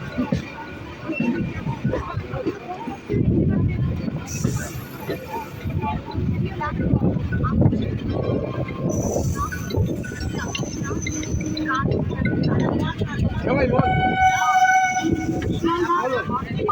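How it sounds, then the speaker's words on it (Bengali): A Barasat–Canning local train rolls into Dum Dum Junction station. A low rumble runs throughout, with several bright horn toots, one of them in the final seconds, and a voice talking over the noise. "আমাদের ট্রেনটা এই মুহূর্তে ঢুকছে দমদম জংশনে"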